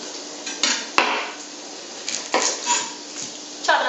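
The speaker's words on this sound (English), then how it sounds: "I'm going to cut up 2 small onions and some celery" A knife chopping two small onions and celery on a cutting board, with a handful of close, sharp knocks of the blade striking the board at irregular intervals, separated by softer scraping and shuffling, and no talking.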